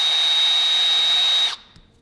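A power driver spins the worm screw of a radiator hose clamp on a Corvette with a 3-rotor 20B rotary engine, a steady loud whine that cuts off sharply near the end.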